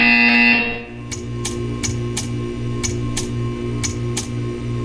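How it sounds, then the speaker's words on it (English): A buzzer in the video game Portal 2 sounds as a sharp tone that cuts off, followed by a series of short, evenly spaced electronic ticks against a low mechanical hum. "You will hear a buzzer."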